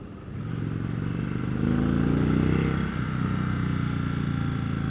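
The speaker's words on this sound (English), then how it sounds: "Just kind of goosing it here in second." A 2015 Indian Chief Dark Horse motorcycle pulling in second gear, its engine giving a steady low rumble that swells in pitch and loudness midway, then eases, heard close with no speech.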